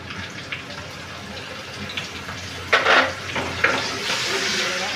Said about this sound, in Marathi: चांगला असा परतून घेऊ गॅसची फ्लेम फास्टच ठेवायचे मिरची घालून घेऊ